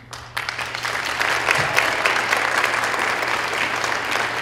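Audience applause fills a school holiday concert for 7th and 8th graders, steady dense clapping rising quickly after a brief quiet start and holding loud and sustained throughout.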